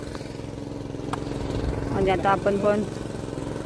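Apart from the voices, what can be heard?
tractor engine running while preparing a muddy paddy field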